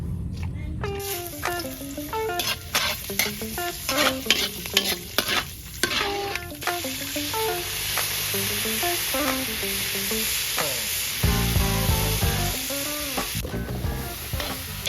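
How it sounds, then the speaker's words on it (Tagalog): Squash sautéing in a pan for kare-kare, with steady sizzling and frying under repeated scraping and stirring strokes of a utensil against the pan, fairly close. "kung natin igisa yung kalabasa"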